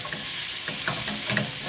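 Quick steak hitting a hot griddle in a cleared well at the centre, sizzling steadily with a few scraping stirs and utensil taps at close range, no voices.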